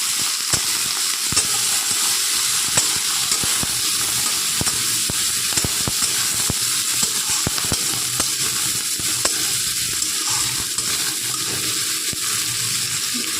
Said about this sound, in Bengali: পেঁয়াজ কলিটা আমরা একটু তেলের মধ্যে নেড়ে নেবো হালকা করে।